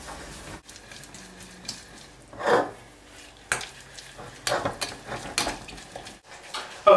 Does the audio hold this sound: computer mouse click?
no